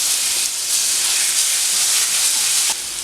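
Ginger garlic paste hits hot oil in a pan and gives off a loud, continuous, close-up hiss and sizzle for about three seconds.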